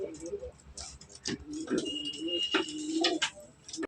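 Pigeons cooing close by in low, throaty warbles, several calls overlapping, with faint ticking and a brief high whistle in the background.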